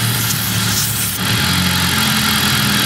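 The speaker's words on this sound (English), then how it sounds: "when I put it back, the idle stabilizes itself" Saab 9-5 engine idling with a brake booster vacuum pipe fault, a loud steady close engine hum that shifts partway through as the idle settles into a smoother, stable tone, no talk.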